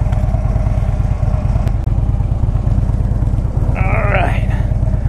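A 2010 Harley-Davidson Ultra Classic rumbles steadily on a ride, its loud, low engine drone continuous throughout, with a short higher whine near the end.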